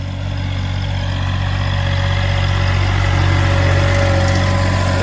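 A small tractor engine runs steadily at close range in a muddy dove field, a constant low droning hum with no pauses or voices.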